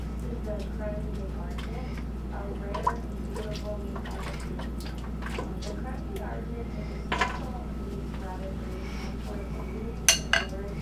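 Occasional clinks of a bowl and dishes while chicken and vegetable soup is served in a kitchen, a few light knocks standing out against a steady low hum, with people speaking throughout.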